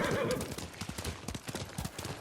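In the video game Ghost of Tsushima, the horse Kage gallops with rapid rhythmic hoofbeats, close and fairly loud, with a brief neigh blended in at the start.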